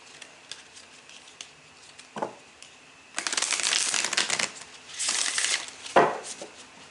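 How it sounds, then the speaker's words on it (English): A deck of tarot cards is shuffled up close, a few light taps and flicks followed by two longer riffling bursts and a final snap, with no talk. "let's pull out the cards and give them a little shuffle, shuffle, shuffle"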